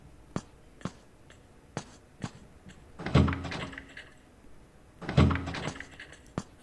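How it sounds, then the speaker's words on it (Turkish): A door in the horror video game Evil Nun 2, rattling without opening: light clicks and taps, then two heavy thudding bangs a couple of seconds apart, close and clear with no talking. "Kapı açılmıyor."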